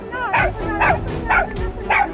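A dog barks four times in an evenly spaced series of close, loud, yelping barks, with a steady low rumble underneath.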